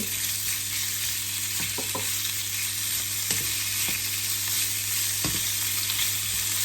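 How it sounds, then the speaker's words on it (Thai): Slices of pork belly sizzle steadily in hot oil in a home kitchen wok, a constant dense crackle with occasional utensil clinks and stirring scrapes, close and continuous with no talking. "น้ำมันเริ่มร้อนแล้วเราก็ใส่หมูสามชั้นลงไปเลยนะคะ"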